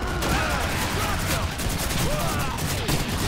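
Continuous, dense gunfire in the World War II shooter Call of Duty 2, a steady rattle of rifle and machine-gun shots with distant battle noise filling the background at moderate level, with no clear pauses.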